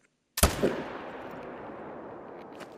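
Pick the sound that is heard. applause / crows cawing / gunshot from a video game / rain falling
gunshot from a video game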